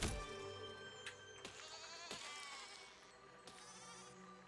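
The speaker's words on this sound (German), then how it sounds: "um damit ja auch die Schafe in Brand zu stecken, die dann auf mich zugelaufen kommen" Burning sheep in the video game Besiege bleat repeatedly in several overlapping cries, loud and close, with sharp crackling bursts between them.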